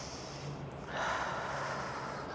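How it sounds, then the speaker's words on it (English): One slow, deep inhale during a yoga class, soft and close, swelling gently midway through a quiet room without speech. "We're just going to take one really deep inhale here."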